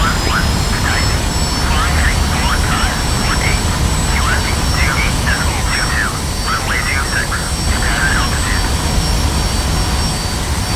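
F-86 Sabre jet engine in the combat flight simulator Digital Combat Simulator, a continuous loud roar with a steady high whine, running throughout over a faint chatter of radio talk.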